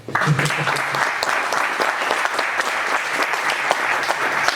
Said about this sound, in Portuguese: Repetimos as palmas, está bem?